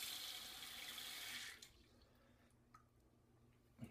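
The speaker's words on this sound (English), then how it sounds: "So, put some more water on it." Tap water runs steadily into a sink for about a second and a half to wet a makeup brush, then shuts off, leaving a few faint drips and small knocks.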